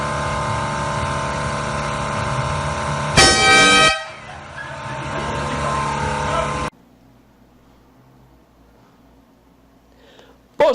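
A car horn blares in a short, loud honk amid steady traffic and engine noise, followed by near silence.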